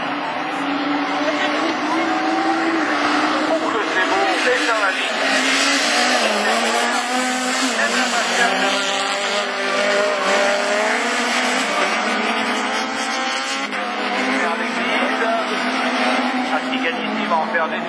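Super 1600 rallycross race cars competing at Lessay in the Manche, engines revving and screaming as they pass, shifting pitches layered over one another, with a commentator talking throughout.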